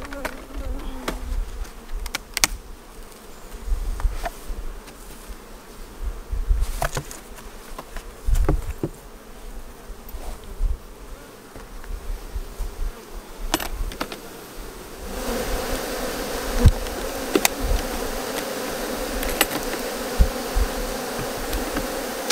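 Honey bees buzz steadily around a double super beehive outdoors, a dense continuous drone with individual bees zipping close past, growing louder and fuller toward the end.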